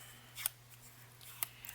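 Scissors trimming a small piece of paper ephemera for a handmade envelope journal, two quiet crisp snips about a second apart over a faint steady hum, close but soft.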